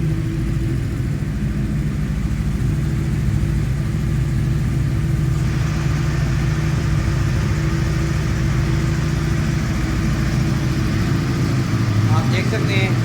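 A Yamaha R1 sport bike with an engine in very good condition idles on a cold day while warming up, a steady, close, low rumbling hum that holds for the whole stretch with a little rattle near the end.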